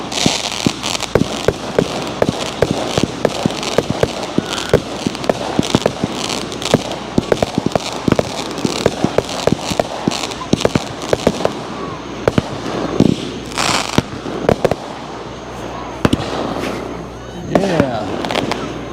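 A Fourth of July fireworks display at a Baptist church in Ridgeland in 2023, heard as a long run of sharp booms and crackling bursts, some close and loud, with spectators talking and exclaiming between the blasts.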